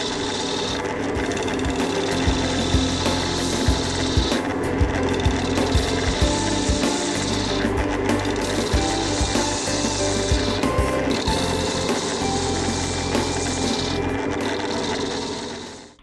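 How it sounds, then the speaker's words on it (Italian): A wood lathe drones continuously as a profiling gouge roughs the rebuilt exterior of a segmented open wooden bowl, a loud steady whir with a scraping cutting texture throughout and no talk. "passa a sgrossare di nuovo esterno rifatto con una sgorbia profilare"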